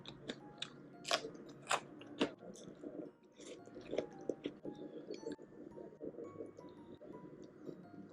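Crunchy bites and chewing from someone eating during a Korean mukbang, close and crisp, a series of sharp crunches spaced about a second apart and then softer chewing, with no talk.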